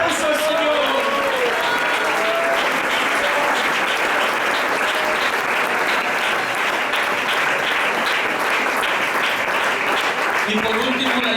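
A church congregation at a Sunday school sermon applauds loudly and continuously, the dense clapping sustained for over ten seconds with a few voices calling out over it.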